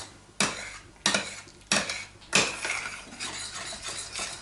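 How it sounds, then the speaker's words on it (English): Semolina is stirred in a pot, with four loud scraping strokes of a utensil against the pot at a steady pace, then softer continued stirring, with a faint sizzle underneath. "To keep stirring, keep it from burning."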